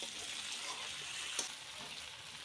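Mutton sizzles steadily in a hot pan of homemade spices as fried potatoes go in, a continuous close crackle with one brief clatter midway.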